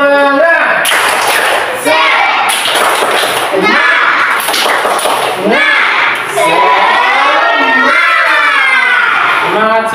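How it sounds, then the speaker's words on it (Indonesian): Fourth-grade pupils in an Indonesian elementary classroom repeat the tepuk semangat clapping chant, loud chanted voices punctuated by regular bursts of hand claps, up close and lively throughout. "Sekali lagi, tepuk semangat."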